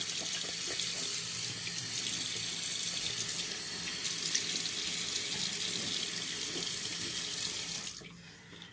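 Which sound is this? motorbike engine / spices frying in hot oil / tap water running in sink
tap water running in sink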